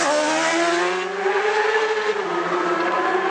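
A racing motorcycle at the Isle of Man TT sweeps past at speed and flicks into a right-hander at Glen Hill, its engine screaming loud and close with a falling pitch as it passes, no voices over it.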